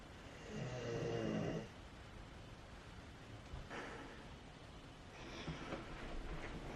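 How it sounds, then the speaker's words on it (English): A dog snores indoors, faint, drawn-out rasping breaths with one longer snore early and another later, separated by a quiet pause. "We got the dog snoring away in the background,"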